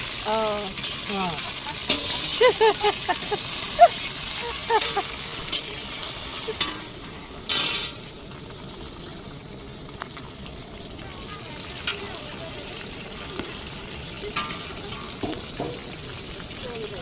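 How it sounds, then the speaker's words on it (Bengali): Fish frying in oil in a big pot, cooked in bulk for a 150-person event, gives a loud continuous sizzle with stirring scrapes, while people talk in the background, mainly in the first half. "মাছ একটু ভাজা হচ্ছে"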